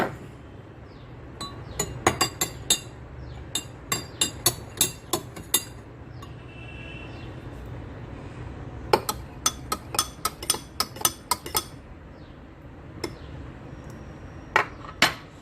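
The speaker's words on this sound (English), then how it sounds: "Now we'll stir." A spoon stirs water mixed with vinegar and oil in drinking glasses, giving sharp clinks against the glass in quick irregular flurries with brief pauses, close and clear over a quiet background.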